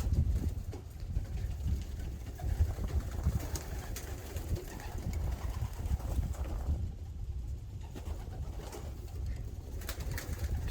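Pigeons released outdoors, with bird calls and cooing over a steady rumbling background; wingbeats from the birds flapping around blend into the continuous noise at moderate distance.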